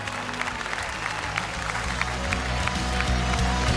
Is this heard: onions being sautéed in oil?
no